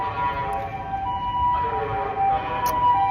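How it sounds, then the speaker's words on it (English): An ambulance siren wails along a Tokyo street in the Takadanobaba area, a steady rising and falling tone over road traffic noise, moderately close and continuous. "All right, ambulance."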